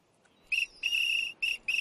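Bright, shrill whistle blown in short bursts: a quick toot, a longer sustained blast, then two more brief toots, clear and fairly close against a quiet background.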